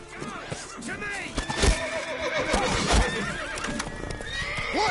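Roach, Geralt's horse in The Witcher 3, whinnies loudly several times amid galloping hoofbeats and battle noise, with game voices talking over it.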